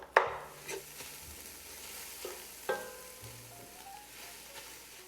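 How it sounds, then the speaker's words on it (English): Tomato paste and garlic cook in a pot for an oil-free vegan borscht, giving a faint, quiet sizzle broken by a few sharp knocks and scrapes of a utensil. "we're just going to cook this for a few minutes just to kind of bring out some of the flavor of the tomato paste and to cook the garlic"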